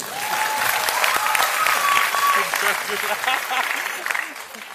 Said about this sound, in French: Applaudissements pour la mère de monsieur.